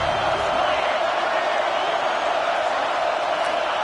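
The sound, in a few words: stadium crowd cheering loudly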